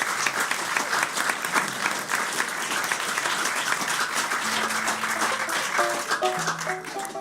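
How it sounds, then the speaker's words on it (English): Sustained applause from a large audience at a live bluegrass session, loud and steady throughout, with some musical tones starting up underneath toward the end. "another great big round of applause"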